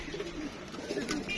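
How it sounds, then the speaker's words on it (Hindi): Pigeons cooing on a rooftop in Gujranwala, soft low warbling coos close by over a steady outdoor background hiss. "ये जी इनके जो कबूतर है ना दोस्तों,"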